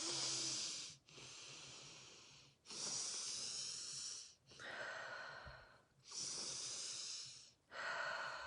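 A person breathes slowly in and out through the nose in a guided breathing exercise, about six close, even, hissing breaths with brief pauses between them.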